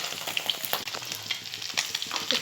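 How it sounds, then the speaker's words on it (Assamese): Singhi fish frying in a kadai, a busy crackling sizzle with frequent spatters and pops, steady and close without any voices. "এতিয়া মাছখিনি সম্পূৰ্ণ ফ্ৰাই হ'ব ধৰিছে"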